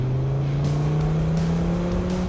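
Lamborghini Diablo SE30 with an 8-liter V10 pulls hard in second gear from about 2,500 rpm, a steady, loud engine drone rising gradually in pitch with continuous exhaust rumble and no talking.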